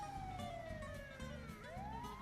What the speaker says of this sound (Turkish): Ha geldi ambulans.